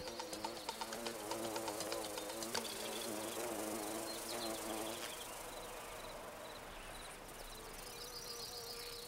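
Bumblebees buzz around foxglove flowers in a garden, a steady, fairly faint drone of wings that continues throughout with small shifts as they move.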